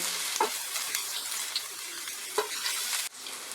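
Chopped ginger and garlic fry in hot oil over medium heat, a steady close sizzle broken by a couple of sharp spatula taps and stirring scrapes, ending with a sudden drop.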